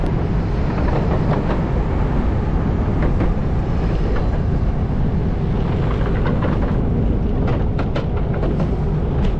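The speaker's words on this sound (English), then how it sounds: "There goes the high-speed train on the left." A high-speed train passes in Korea near an old railway bridge over a river, a sustained loud rumbling roar with rhythmic clacks of wheels, steady throughout and heard from outdoors without talk.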